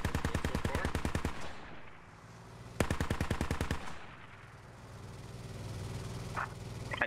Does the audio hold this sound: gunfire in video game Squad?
yes